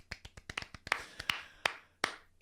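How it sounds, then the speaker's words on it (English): A small group claps briefly, a dozen or so sharp, uneven hand claps close by, tapering off after a couple of seconds. "I think this requires a round of applause."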